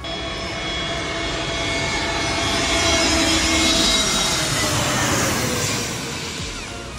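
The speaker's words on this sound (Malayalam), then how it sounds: "നമ്മളൊരു ഫ്ലൈറ്റ് വരാൻ വേണ്ടിയിട്ട് വെയിറ്റ് ചെയ്തുകൊണ്ടിരിക്കുകയാണ്." An airliner passes overhead on approach to Trivandrum airport at night. Its jet roar swells steadily to a loud peak and then eases off, broad and continuous, with no talk.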